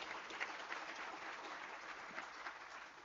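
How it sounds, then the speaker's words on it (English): A conference audience at a national records management event applauds with steady, dense clapping that holds at an even level throughout, with no voices over it. "Can we please give him another round of applause"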